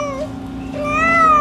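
A mother cat with kittens at a farm in Libertyville, Illinois, meows loudly and close, in two drawn-out calls, the second rising and longer, over a low steady background hum.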